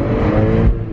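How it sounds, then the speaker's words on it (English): Porsche Cayman S engine pulling hard at full throttle toward redline, a loud, rising mechanical roar heard close from inside the car, with the tone shifting sharply near the end as it tops out. "Who says we go for a first full throttle acceleration?"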